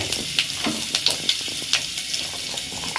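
Mustard seeds, fennel and fenugreek tempering in hot oil in a kadai, a loud dense hiss with scattered sharp crackles and pops, close and continuous.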